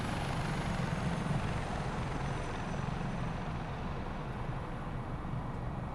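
Dauphin helicopter in the MSFS 2024 flight simulator, a steady loud rotor and turbine roar that holds constant throughout, with no voices.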